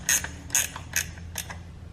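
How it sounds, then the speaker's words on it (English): Ratchet wrench backing out an 8mm chain tensioner bolt on a Honda Monkey 125, four quick clicking ratchet strokes at an even pace, close and crisp. "I'm using a ratchet style wrench to make the process a little bit smoother, quicker."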